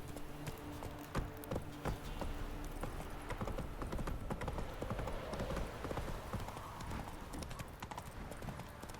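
Roach the horse trotting in the video game The Witcher 3, steady rhythmic hoof clip-clops under a continuous background bed, close and fairly even throughout.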